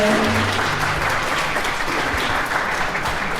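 Wedding guests applaud during the ceremony, a close, steady burst of many hands clapping that fades slightly toward the end.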